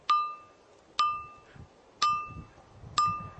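Four evenly spaced, clear metallic pings ring out like a small bell, each struck about a second apart and decaying quickly over soft background rustling.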